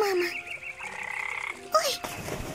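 A frog croaks in a children's fairy tale, giving short throaty calls with sliding tones over a busy background soundtrack.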